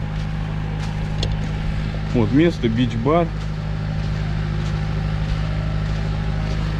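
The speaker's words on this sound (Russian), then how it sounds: "Если бы не вот этот генератор, я сначала думал трактор работает" A generator hums near a beach bar among pine trees in Pefkochori, Halkidiki, Greece, giving a steady low drone throughout while someone speaks briefly over it in the middle.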